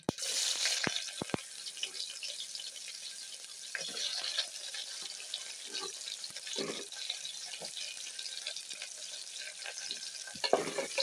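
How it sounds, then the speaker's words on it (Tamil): Chopped onion frying in a pan for Kudanthai kadappa, a steady sizzle with occasional stirring scrapes and a clatter near the start, held at an even level throughout. "இந்த ஆனியன் நல்லா கொஞ்சமாக ஃப்ரை ஆகட்டும்"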